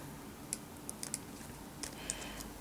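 Quiet, sparse clicks of typing on a computer keyboard while writing code, a few scattered keystrokes over a soft background hum.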